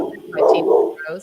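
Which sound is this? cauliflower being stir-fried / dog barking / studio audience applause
dog barking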